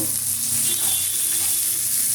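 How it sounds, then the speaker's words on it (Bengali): Continuous loud sizzling in a pan as salted Gobindobhog rice fries and is stirred, with scraping stirring sounds, close and steady throughout. "চালটা ভাজার সময় নুনটা দিয়ে দিলাম আমি ভেজে নেবো চালটাকে"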